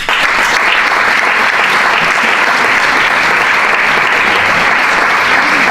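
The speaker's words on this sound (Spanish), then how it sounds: "que recibiéramos con un fuerte aplauso a Isaías Lafuente" Loud, sustained applause from a large audience at a lecture, a dense steady wash of clapping with no pauses.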